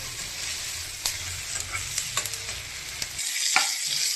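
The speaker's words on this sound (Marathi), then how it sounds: "टोमॅटो पण 2 मिनिटं चांगलं परतून घ्यायचं." Tomatoes with onion-garlic masala, red chilli powder and mutton masala sautéed in a pan for a chicken dish, a steady sizzle broken by scraping, clacking stirring strokes, close and alone.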